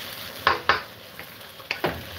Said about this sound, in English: So those onions need to be cooked properly.